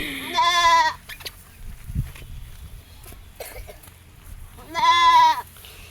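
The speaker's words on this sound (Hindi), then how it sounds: "बकरी परेशान हो गई, अपनी मम्मा को बुला रही है।" A goat bleats twice while children pester it, each cry a loud wavering call about a second long, with quieter shuffling and faint noises between and no clear talk.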